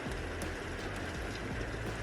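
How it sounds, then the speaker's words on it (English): Steady rain mixed with the crackle of a fire forms a dense, constant wash of sound with faint pops and patter throughout, with no talk. "You can hear the rain and you can hear the fire, and the combination is just phenomenal."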